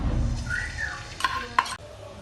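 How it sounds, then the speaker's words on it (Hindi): Garlic paste fries in a pan while being stirred, a soft sizzle under scraping stirring strokes and a couple of sharp utensil knocks, close and fairly quiet. "तो जी लहसुन जो फ्राई हो चुका है"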